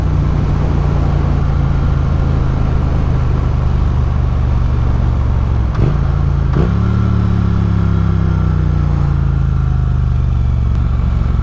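A 2024 Triumph Speed Twin 900 A2 motorcycle under way, its engine a steady, loud low drone over constant wind rush, with a brief shift in tone partway through as the revs settle lower.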